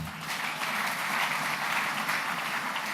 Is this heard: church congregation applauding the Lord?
yes